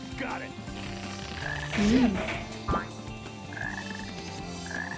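Frogs croak in the Sonic Heroes video game, a chorus of repeated low croaks over game music, with a brief louder burst partway through and no talk.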